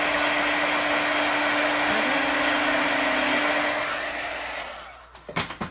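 An embossing heat tool blows hot air steadily and loudly over embossing powder on paper for a stamped pumpkin card, a constant whooshing hum that fades out near the end before a few brief knocks.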